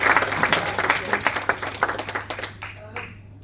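A lounge audience applauds a man being introduced, a dense stretch of clapping that thins out and fades over a few seconds, with a steady low hum underneath.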